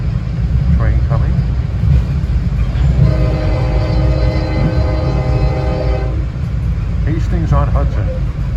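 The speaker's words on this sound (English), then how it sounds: "Train coming." A train passing on the Hudson line near Dobbs Ferry, heard from aboard another moving train: a loud, continuous rumble of wheels with a sustained horn-like tone in the middle of the passing, and brief voices at the start and end.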